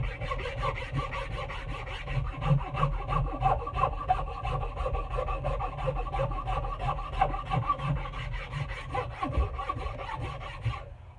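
A Nicholson file rasps along a wooden axe handle near the eye, a steady, close series of rhythmic scraping strokes running throughout at moderate loudness with no talking.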